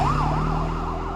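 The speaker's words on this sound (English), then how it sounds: "They walked Bill to the ambulance and took off." An ambulance siren wails loud and close, its pitch sweeping up and down in a steady cycle over a rumbling vehicle engine as it drives off.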